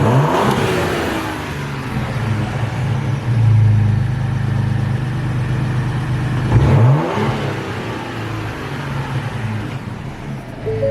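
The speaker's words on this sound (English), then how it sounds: "here's a couple revs." A 2020 Ford Explorer ST 3.0T with an MBRP exhaust upgrade and one missing piece is revved up a couple of times, rising and falling sharply from a steady idle, loud and close.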